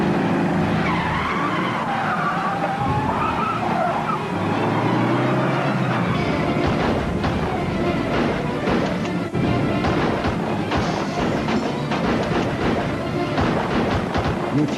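A car pulling a skidding U-turn during a chase, with loud tire squeal and screeching as it swings around, then engine roar and rumbling impacts, close and intense throughout.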